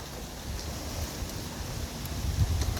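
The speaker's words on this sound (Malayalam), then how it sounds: "കാറ്റ് വീശുന്നുണ്ട്" Wind blows steadily outdoors at the Jatayu Earth's Center hilltop, a soft broadband rush with low rumbling gusts against the microphone, rising a little toward the end, with no voices.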